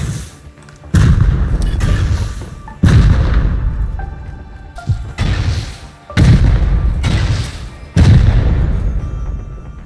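Rockets explode in a Rust Console Edition base raid, five or six loud, booming blasts arriving at irregular intervals, each followed by a rumbling decay, close and heavy with no talk over them.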